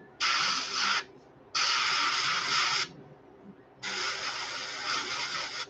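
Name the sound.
spraying paint onto glidebait fishing lure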